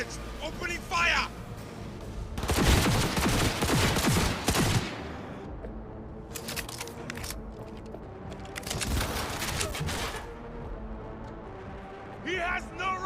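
Gunfire in the video game Cyberpunk 2077: dense bursts of rapid automatic shots in several loud clusters, with voices shouting between them.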